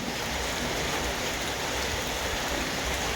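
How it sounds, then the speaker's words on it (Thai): Rain falls steadily outdoors near flowering trees, a dense even hiss of drops on surfaces with no breaks and no voices. "กับบรรยากาศฝนตกนะครับ"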